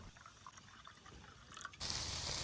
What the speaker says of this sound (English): pour yourself a nice glass of red wine.